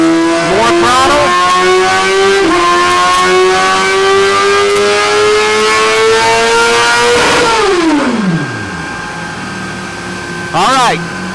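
A 2017 Suzuki GSX-R1000 motorcycle on a dyno, with its engine revving loud and high through the gears in rising sweeps, then winding down sharply near the end before a brief final blip.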